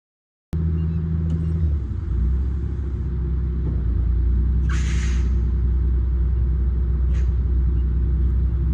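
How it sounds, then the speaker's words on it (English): An MCI coach converted into a skoolie rumbles as it pulls out of soft sand. The engine drones loudly and steadily, with brief hisses partway through. "As the bus starts to move, pay attention to the drive wheels as the sand was still soft"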